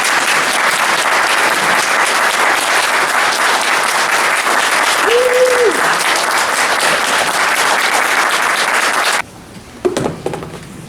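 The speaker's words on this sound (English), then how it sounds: "let's join our hands. This is from Moses asking us all to give you a warm," A conference audience at the Forgiveness Conference in Honolulu, Hawai'i gives loud, sustained applause that continues evenly for about nine seconds and then cuts off abruptly, followed by faint stray sounds.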